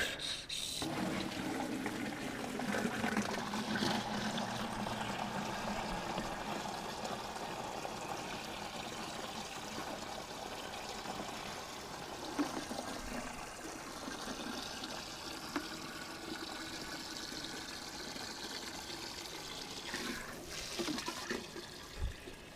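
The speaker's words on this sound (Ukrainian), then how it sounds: "Лійка 10, 10 літрів. Включаємо кранік." Tap water gushes into a 10-litre plastic watering can, a continuous steady rush and splash lasting around twenty seconds, close by and with no talking.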